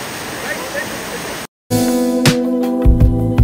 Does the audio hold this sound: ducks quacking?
no